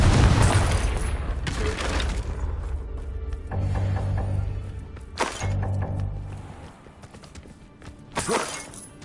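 A Confringo fire spell explodes in Hogwarts Legacy, with a loud shattering blast at the start, then further sharp bursts and crackles spaced a few seconds apart, each followed by a fading rumble.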